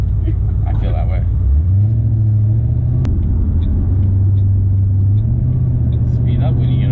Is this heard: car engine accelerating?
yes